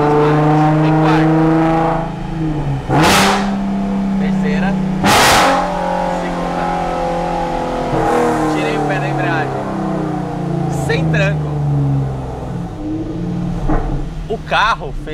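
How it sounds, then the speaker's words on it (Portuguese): A Nissan 370Z engine drones as the car downshifts, with sharp automatic throttle blips that spike the revs. The pitch sweeps up and down between them, and the sound is loud and close inside the car. "O carro fez esse punta-taco pra mim, não fui eu."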